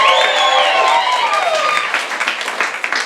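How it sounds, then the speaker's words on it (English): An audience at a New York cosplay cabaret bursts into applause and cheering for a woman named Cassie, a dense wash of clapping that peaks right away and then thins out over a few seconds. "Can we give her a round of applause?"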